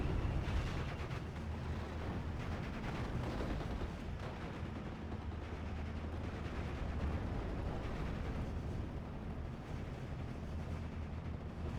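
Aircraft rocket-run explosions in the WWII strategy game Steel Division 44, a dense, continuous rumble of blasts and heavy fire that stays loud and steady throughout, with no speech.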